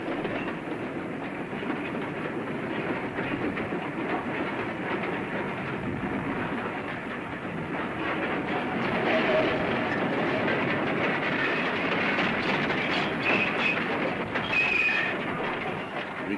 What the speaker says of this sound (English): we'll follow the goods train through the town of Highbridge to its